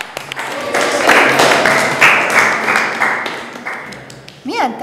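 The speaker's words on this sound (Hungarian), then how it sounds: "Nagy taps!" A small group claps and cheers to welcome a newcomer in a Hungarian school comedy scene, a dense burst of hand claps lasting several seconds, with voices briefly rising through it and a high exclamation at the end.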